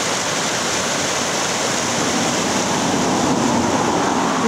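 A river rushes over rocks and boulders beside a bridge on a countryside walk, giving a loud, continuous broadband roar of flowing water close by with no pauses.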